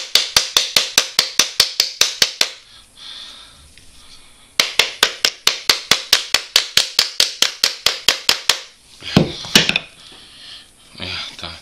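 Rubber mallet striking the plastic casing of a Makita battery pack, two long runs of rapid, evenly spaced sharp taps separated by brief pauses, close and loud, ending with a few scraping knocks.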